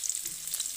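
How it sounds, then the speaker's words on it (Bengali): Chopped onion and garlic frying in hot oil while being stirred, a steady bright sizzle filling the whole short moment without any voice. "পেঁয়াজ আর রসুনটাকে একটু ভালোভাবে নাড়িয়ে নেব"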